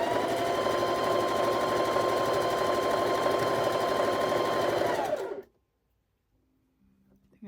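A sewing machine runs steadily while stitching fabric quilt blocks, a close, even, rapid mechanical whir lasting about five seconds before stopping abruptly into near silence with a faint clack afterward.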